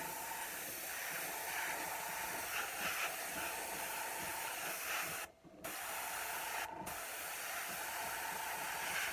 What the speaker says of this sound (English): So basic thing with the airbrush is just nice, even pull.